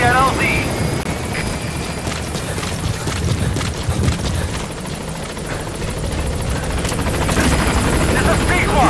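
The B-Quad support helicopter arriving at a landing zone in Metal Gear Solid V, a continuous rotor thrum and turbine whine that swells near the end, with a radio voice speaking over it.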